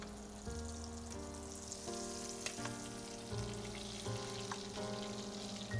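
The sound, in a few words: salmon frying and basting in garlic butter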